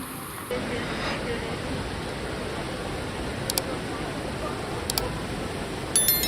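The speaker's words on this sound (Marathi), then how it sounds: "सतत पडणाऱ्या पावसामुळे प्रवाहाला जोर होता." Rain-swollen stream rushing at a waterfall trek in the Tamhini Ghat area, a steady loud broadband roar of fast water throughout, with a few faint brief clicks near the end.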